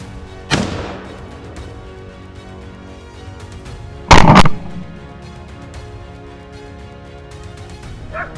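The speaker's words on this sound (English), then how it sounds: "Gunfire echoed loudly through the forest, startling the boars and sending them fleeing from their hideouts." Two sharp gunshots ring out several seconds apart in a forest during a wild boar hunt, the second louder and sustained, each trailing into a reverberating echo amid quiet surroundings.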